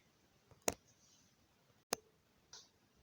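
Scissors cutting through the fabric waistband of palazzo pants, two sharp crisp snips followed by a softer third cut, close and isolated against a quiet room.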